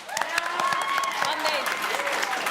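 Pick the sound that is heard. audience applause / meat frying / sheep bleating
audience applause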